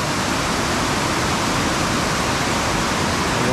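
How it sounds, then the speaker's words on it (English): The Brule River cascades near Devil's Kettle waterfall with a loud, steady, full rushing roar of water heard close and unbroken throughout. "The water movement is so incredibly cool. I like that. I think it's cascading down"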